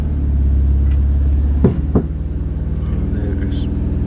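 A Renault Megane RS idles with a loud, steady low engine rumble, broken by a couple of sharp knocks from inside the engine close together near the middle.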